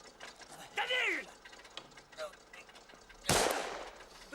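A single loud, sharp gunshot blast cracks out late in a scene from a 1987 film, preceded by a tense, wavering vocal cry and quieter background noise.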